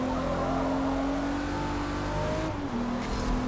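A BMW Z4 M40i in Forza Motorsport at Circuit de Barcelona-Catalunya, its engine droning loud and steady under acceleration, then the pitch drops with a gear change near the end.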